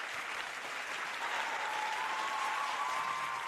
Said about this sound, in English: please give them another round of applause.